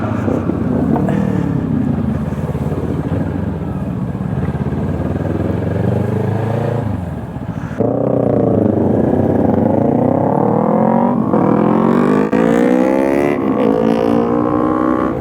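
Yamaha R3 motorcycles ride past in Melbourne city traffic, with engines revving up and down in rising and falling sweeps. The sound is loud and close, with a brief dip near the middle before the revving picks up again.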